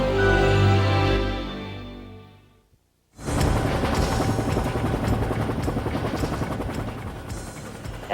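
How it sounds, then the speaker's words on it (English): An Air Force UH-1 helicopter flies with a test squadron, its rotor and turbine drone loud and steady, fading briefly to near silence before returning as a close, continuous rumbling chop. "flying a UH-1 helicopter today for the Air Force"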